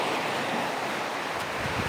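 Steady broadband rush of a flowing river, loud and continuous, with some wind-like hiss throughout.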